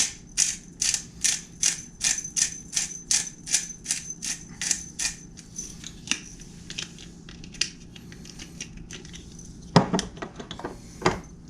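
Spices for a brisket are ground by hand, heard up close as a fast run of regular crunching, rattling strokes, then slower, scattered grinds and a couple of louder knocks at the end.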